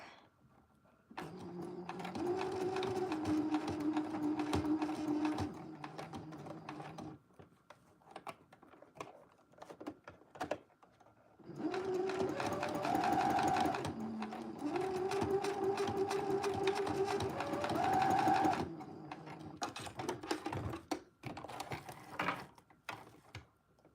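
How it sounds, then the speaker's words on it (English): Domestic sewing machine stitching fabric in two long bursts of steady mechanical whirring and rattling, with a quiet pause between and a few faint clicks at the end. "now I'm going to reinforce the stitches by sewing over it one more time"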